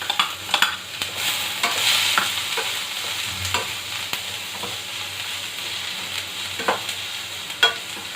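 Sliced onions sautéing in a pan for vada curry: a steady, close sizzle and frying hiss, broken by intermittent scrapes and taps of a stirring spoon against the pan.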